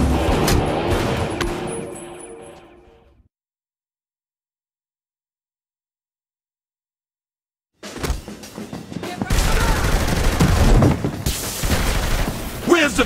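Loud, dense bursts of gunfire and booms erupt in a Saints Row The Third shootout during a heist gone wrong, following a long stretch of silence after some opening sound.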